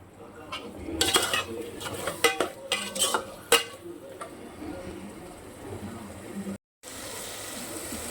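Eggplant sautéing in a pan, with a run of sharp spatula scrapes and clanks against the metal over a low sizzle, then a quieter stretch of steady frying after a brief cut.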